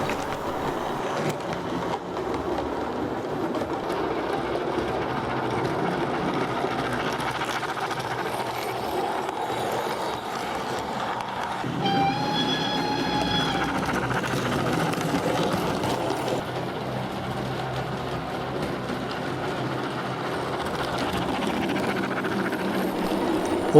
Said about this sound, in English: Just approaching the coaling stage and engine shed at Bryceborough is a through train from York, being pulled by G5 number